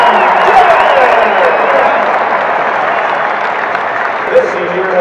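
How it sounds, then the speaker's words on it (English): Loud, sustained applause from a large crowd at a Syracuse basketball senior ceremony, with cheering and whoops mixed in throughout. "Please give a round of applause to Houston Mayor, number 4, John Gillon!"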